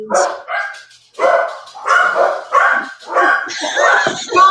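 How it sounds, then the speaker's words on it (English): A dog barks and yips repeatedly close to the microphone, loud bursts with short gaps that turn into a whining, whimpering bark toward the end. "That's my fucking dog."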